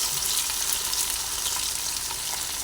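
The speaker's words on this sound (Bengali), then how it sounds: "করলা আলুটাকে তেলের মধ্যে দিয়ে ভেজে নিই" Bitter gourd and potato pieces fry in plenty of oil with a continuous, even, hissing sizzle and no talking.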